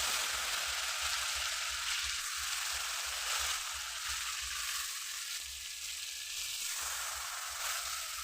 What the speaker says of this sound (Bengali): এখন আমি কড়াই তেলের ভিতরে চাল কুমড়োটা ঢেকে দেবো